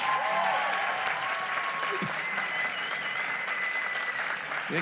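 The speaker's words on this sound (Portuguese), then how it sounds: "quero que vocês agradeçam com uma salva de palmas" An audience at a technology conference stage in Pernambuco, Brazil, claps steadily, a sustained round of applause that stays even throughout.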